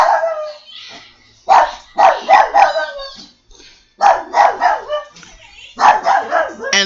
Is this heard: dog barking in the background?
yes